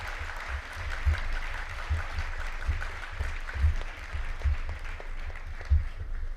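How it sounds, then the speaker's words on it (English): An audience claps steadily, a dense, even wash of applause from a crowd with a few sharper claps standing out. "please could we give them another round of applause"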